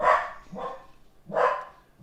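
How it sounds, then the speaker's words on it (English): A pet dog named Max barks indoors, three sharp barks spaced about half a second to a second apart, fairly close and moderately loud, with no talking over them. "Maxie, Max, oh my God, man, what are you barking at?"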